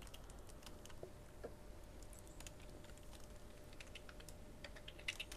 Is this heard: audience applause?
no